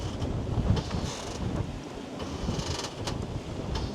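Wind of about 17 knots picking up at sea aboard a sailboat, gusting and buffeting the microphone in uneven surges over the wash of waves, with no voices.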